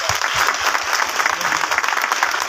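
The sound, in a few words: audience applause in church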